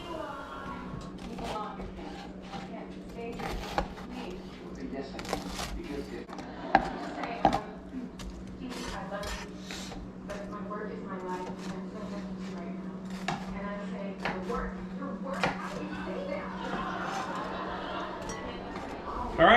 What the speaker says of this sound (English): The Texas garlic toast is done and looks amazing. We're gonna go ahead and get this chopped up